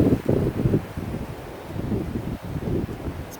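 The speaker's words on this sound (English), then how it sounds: "It's breezy up here." Strong wind sweeps over sand dunes on an exposed hilltop, a continuous low roaring buffet that surges and eases, heard alone without talk.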